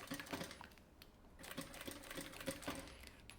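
Sewing machine stitching a straight seam on an anti-theft backpack, a rapid, steady mechanical chatter with short bursts and pauses, close and moderately loud.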